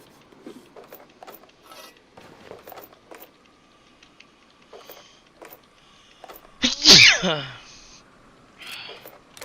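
One loud, sharp sneeze bursts out close to the microphone near the end, standing clear above quieter clicks and soft background noise.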